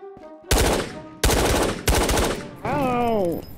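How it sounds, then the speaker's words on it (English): Three loud, rapid automatic gunfire bursts ring out close by in Ghosts of Tabor, each sustained for roughly half a second, followed by a wavering tonal sound. "Who's shooting at me?"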